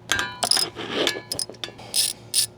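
Metallic clicks and scraping as a bolt is worked out of a bracket on a hotshot truck, irregular ratchety bursts close up, no talk.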